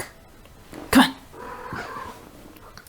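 A house cat lets out one loud, sharp meow up close, followed by a softer drawn-out complaining whine against a quiet room.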